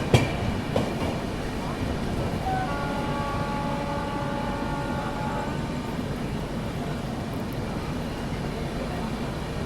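A Humsafar Express rolls along the Delhi–Kanpur line with a steady rumbling, rattling ride noise heard from inside, a short tonal whine partway through and faint voices underneath.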